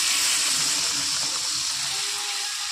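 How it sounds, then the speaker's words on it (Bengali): Water pouring into a pan of cooking fish curry, a continuous close gushing splash that holds steady for a few seconds, alone without speech. "এবার দিয়ে দেবো পরিমাণ মতো জল।"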